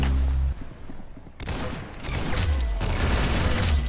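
Gunfire in the Roblox game Arsenal: dense bursts of rapid shots fill the clip, loud and close, with a brief lull near the start before the firing resumes and continues steadily.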